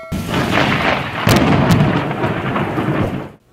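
A loud thunder sound effect for lightning rumbles as one continuous deep roll with a sharp crack partway through, then cuts off abruptly.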